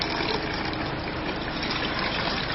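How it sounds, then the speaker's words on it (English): Water pouring steadily into the water tank of a JAM espresso machine, a continuous close, even rushing and trickling sound with no talk. "We're going to fill water up into that,"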